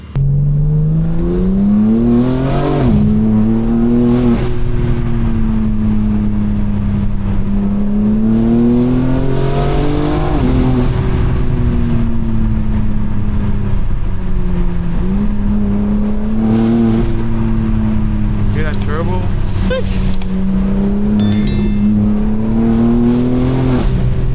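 A BMW M4 Competition with a loud exhaust drones up close as it is driven, rising and falling through repeated revs and gear changes for a sustained stretch, with no talk over it.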